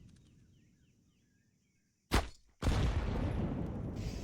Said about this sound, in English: But a good nade at least pulls back some of the damage as Oscar just basically eats that one.